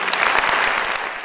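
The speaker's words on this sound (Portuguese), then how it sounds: "Eu queria propor uma salva de palmas ao 14º prêmio da revista Trip." Audience applause at the 14th Trip magazine Transformadores awards ceremony in 2009, a dense, steady wash of many hands clapping with no pauses.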